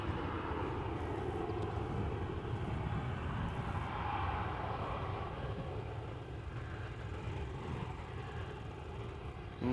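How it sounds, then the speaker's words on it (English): A KLM Boeing 737 taxiing toward the runway threshold at Amsterdam Schiphol Airport, a steady low jet engine rumble at moderate distance that holds evenly throughout. "Up next, KLM 737, also foregoing the entrance over here and going to the runway threshold."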